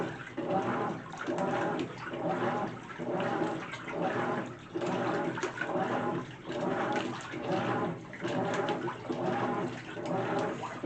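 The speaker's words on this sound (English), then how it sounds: "when the clothes turn over, they circulate through the water and then come back up" A GE top-load washer on its normal cycle agitates clothes through a high water level, giving a steady repeating slosh and swish about once a second, close and continuous with no voices.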